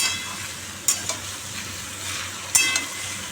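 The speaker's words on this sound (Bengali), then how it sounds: "এই দুই এক মিনিট আমি একটুখানি কড়াইতে মেরে নিই" Bottle gourd sizzles steadily in a hot wok while being stir-fried, with a few sharp scrapes and clinks of a spatula against the pan and no talking.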